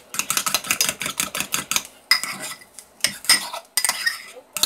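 A fork whisks eggs in a bowl for keto microwave bread, making quick rhythmic clinking taps against the bowl, close and fairly loud, in bursts with brief pauses.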